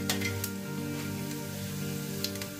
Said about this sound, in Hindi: ऑयल गरम हो चुका है, इसमें मैंने डाला हींग